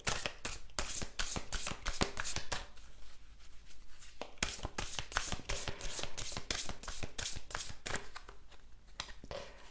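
A deck of oracle cards is shuffled by hand in quick bursts of crisp riffling and flicking, close and clear, broken by a brief pause midway.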